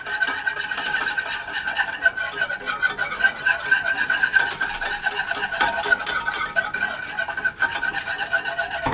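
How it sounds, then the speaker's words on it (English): A whisk scrapes rapidly and continuously through custard mixture in a pan as it heats, making a steady close rasping swish that stays even from start to finish. "heat it up, stirring constantly until the mixture begins to thicken into a nice custard. So I'm going to whisk this constantly."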